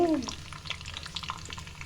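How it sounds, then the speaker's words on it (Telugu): Mustard seeds, lentils and dried red chillies tempering in hot oil in a pan while preparing okra chutney, a close, steady crackle and sputter with scattered pops throughout. "ఒక బాండి తీసుకొని అందులో ఒక పావు ఆయిల్ వేసుకొని పోపు దినుసులు వేసుకొని ఎండుమిరపకాయలు"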